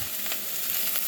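Shrimp sizzling in a pan of caramelized butter with ginger, a steady broad frying hiss that runs the whole time with a faint stirring scrape and a short louder crackle at the end, no talking.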